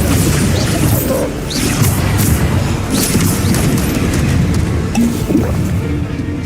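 Bombarda explosion spell being cast in Hogwarts Legacy, a run of loud, dense booming blasts and crashes that pile up continuously with no pause, with a few brighter magical zips on top.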